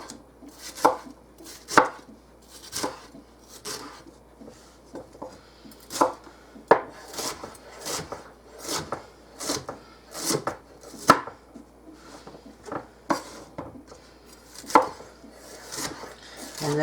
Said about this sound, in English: So I'm just going to chop these all up